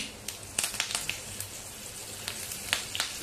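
Mustard seeds, cumin, asafoetida and curry leaves hit hot oil in a tempering, giving a close, steady sizzle broken by sharp, scattered crackling pops throughout.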